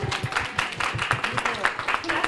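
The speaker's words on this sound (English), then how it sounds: "Let's give her another round of applause." Audience applause after a workshop session, a moderate patter of clapping with distinct rhythmic claps close by and a voice talking over it.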